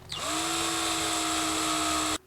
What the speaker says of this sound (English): And you're going to drill a hole big enough for your rope to go through.